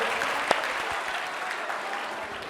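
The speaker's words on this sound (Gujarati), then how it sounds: "આ નાના ભૂલકાઓને આપણે જોરદાર તાળીઓના ગડગડાટથી ફરીથી વધાવી લઈશું." An audience at a school annual function applauds a performance by young children, with dense, steady clapping from a large crowd filling the whole stretch.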